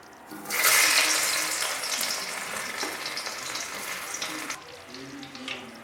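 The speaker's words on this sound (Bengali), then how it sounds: "আলুটা ভেজে নিব।" Potato pieces dropped into hot oil in a wok, with no tempering spices, set off a loud burst of sizzling that holds steady for several seconds and then eases slightly toward the end.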